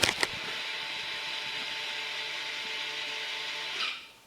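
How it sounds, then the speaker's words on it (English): The electric motors of a Toyota's electronic rear parking brake whir steadily for about four seconds as they retract fully for brake service mode, with a faint click at the start and a brief rise before they stop. "the parking brake motors back all the way out"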